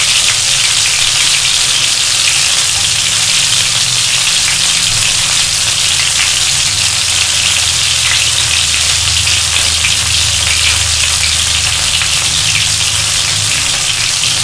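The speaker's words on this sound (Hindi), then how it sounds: "2 से 3 पीसें रख सकते हैं फ्राइंग के लिए" Chicken tikka pieces frying in hot oil, a loud, dense, steady sizzle and crackle that holds unbroken throughout, close up with no talking.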